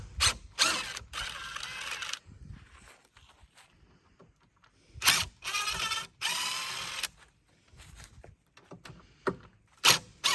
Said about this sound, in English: get the drill, and we're gonna pull these screws out